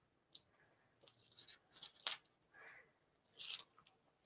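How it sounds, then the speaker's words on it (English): Release paper being peeled from strips of foam tape during card making, giving a few short dry tearing and crackling rips with small handling sounds between them, close and fairly quiet. "We'll go ahead and pull off the release paper."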